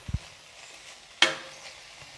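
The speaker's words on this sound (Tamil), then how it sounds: "லேசாக அப்படியே உப்போட கிளறி கொடுத்துட்டு அப்படியே நம்ம மூடி வச்சுருவோம்." Vegetables are stirred with salt in a cooking pan for semiya pulao, giving a couple of soft taps followed by one sharp scraping clatter of a utensil against the pan and a faint sizzle, close and quiet.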